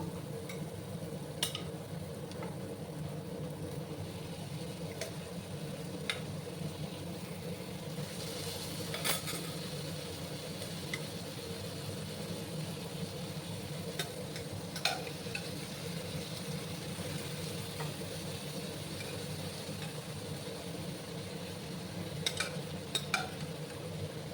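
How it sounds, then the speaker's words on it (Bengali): Cabbage and potatoes stirred into frying spices in a pan, a low steady sizzle with sparse spatula clicks and scrapes at irregular intervals, close but fairly quiet, no talk. "এবার আমি বাঁধাকপি আর আলুগুলো দিয়ে দেবো"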